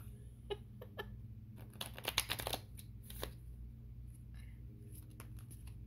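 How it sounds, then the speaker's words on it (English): Tarot cards are shuffled by hand in quiet, irregular riffles and taps, with a denser flurry in the middle, over a faint steady background hum. "Let me shuffle more."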